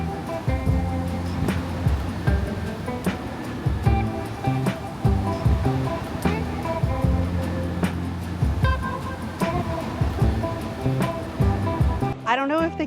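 Ocean waves wash onto a Sri Lankan beach with crystal-blue water, a continuous loud surf rumble with voices layered over it throughout.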